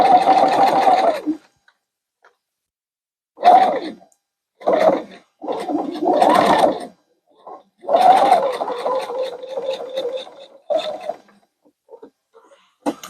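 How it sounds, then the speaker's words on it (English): A sewing machine runs a seam through cork in several short bursts separated by pauses, each a close whirring rattle of rapid stitches, with longer runs toward the middle. "you want to sew a second seam at about 3/8, just to reinforce that corner"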